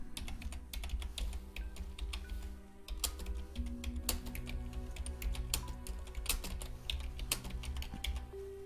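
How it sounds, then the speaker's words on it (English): Typing on a computer keyboard clicks along in a steady, uneven stream of close keystrokes, with faint background hum and no talking. "Typing's as dodgy as ever."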